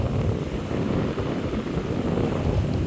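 Strong wind buffeting the microphone at an outdoor fishing spot, a steady low roaring rumble with no voices, unbroken throughout.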